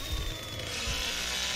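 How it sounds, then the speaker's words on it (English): A poison chainsaw revs in the video game The Texas Chainsaw Massacre, a short, gritty motor drone with faint rumbling pulses, fairly quiet and steady for under two seconds with no talking. "Poison chainsaw in commence"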